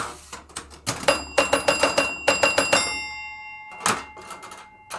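A Space Ship pinball machine rings rapid bursts of loud electromechanical chimes in quick rhythmic series, several strikes in a row with lingering tones and mechanical clicks between them.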